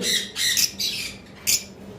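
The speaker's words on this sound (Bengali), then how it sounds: "আমাদের কাছে এখানে লাভ বার্ড দেখতেছেন" Lovebirds giving harsh, high-pitched squawks in short bursts, several calls close by with brief gaps between them, no talking.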